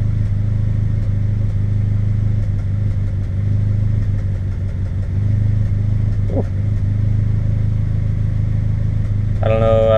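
A Suzuki X90 engine idles and runs roughly with a misfire, producing a steady, loud, low mechanical drone close by with uneven pulsing and a brief whine near the end.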